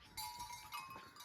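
Local goats grazing along a path in Lwang village, Nepal, with faint bleats and rustling over a quiet outdoor background, fairly distant and soft.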